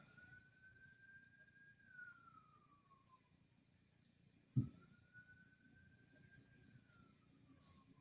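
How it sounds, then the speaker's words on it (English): A distant emergency siren wails in slow rising and falling sweeps, faint under steady background noise, with one sharp thump partway through. "can you guys hear the siren?"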